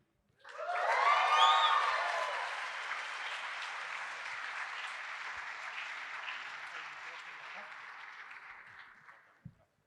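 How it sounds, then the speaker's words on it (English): Sustained audience applause with some cheering fills a hall at a hackathon closing ceremony after a live mainnet payment demo, rising quickly to a loud peak, then holding steady and slowly fading. "This deserves another round of applause."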